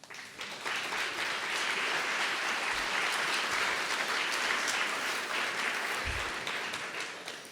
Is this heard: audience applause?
yes